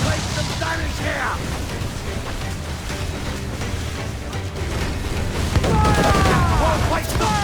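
Naval cannon fire and explosions from a sea battle in Assassin's Creed IV Black Flag: a dense, continuous roar of booms and blasts, loud and close, with shouted crew voices mixed in throughout.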